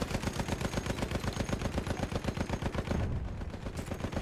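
Machine gun fire in the video game Battlefield 1 rattles in a fast, steady, unbroken stream of close shots for several seconds.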